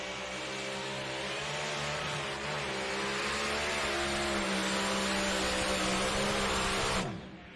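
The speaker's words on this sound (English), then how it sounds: "You heard it hit the rev limiter, and it just nosed over from that point." A tractor-pulling engine at the Henry County Fair Grand Nationals in Napoleon, Ohio, holds a loud sustained high-rev roar pinned at the rev limiter with a steady buzzing drone, then cuts off abruptly near the end.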